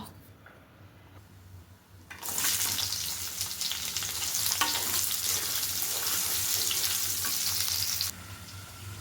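Onions dropped into hot oil in a pan burst into a loud, close sizzle after a quiet start, holding steady for several seconds before cutting back down abruptly.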